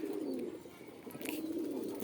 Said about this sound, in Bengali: এগুলো সব আমার বাড়ির কবুতর, রেজাল্ট করা কবুতর